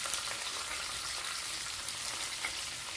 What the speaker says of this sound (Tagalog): Ang pagprito ng ating isda.